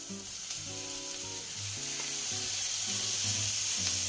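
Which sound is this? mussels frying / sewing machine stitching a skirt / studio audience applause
mussels frying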